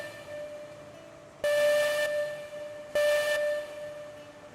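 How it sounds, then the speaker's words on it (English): Train whistle in a railroad video game, two loud sustained blasts about a second and a half apart, each a steady tone that cuts in sharply over low background noise. "Bro, you can hold off on the fucking whistle. It's unbelievably loud."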